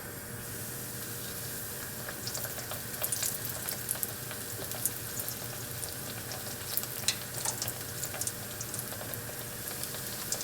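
Zucchini slices frying in a hot pan with shallow oil, giving a steady close sizzle with scattered crackles and pops throughout and no talking.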